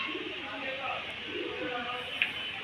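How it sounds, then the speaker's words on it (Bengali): A low coo from a single female pigeon rolls softly beneath a steady background hiss, with a short sharp click near the end and no speech. "এটা সিঙ্গেল মাদি পায়রা"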